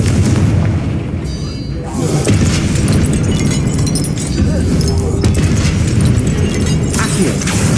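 Confringo fire spell explosions in Hogwarts Legacy, heard as loud, dense booms and bursts one after another, close and heavy, with voices and game effects mixed in.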